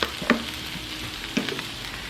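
Onions seasoned with salt, garlic powder and onion powder fry in a pan, giving a soft steady sizzle with a couple of brief pops and clinks near the start and middle.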